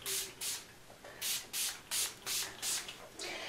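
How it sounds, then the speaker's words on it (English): Repeated short hair shine spray bursts from an aerosol can, about seven in a steady rhythm, each a brief airy hiss, close by. "I'm just going to take this shine spray, and we're just going to spray this all over our hair"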